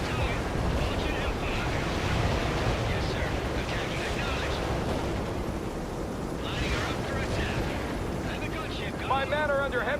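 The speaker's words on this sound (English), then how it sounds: "My men are under heavy fire." Heavy gunfire and artillery booms in the World in Conflict video game, a dense, continuous roar of blasts and shots throughout, with brief voice fragments mixed in.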